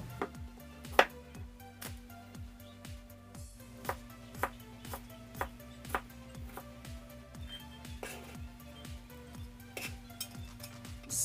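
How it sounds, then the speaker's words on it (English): Carrots being chopped with a knife on a board for a seafood gratin, a steady run of crisp, close knocks about every half second, alone with no talking. "Next, let's cut our carrots."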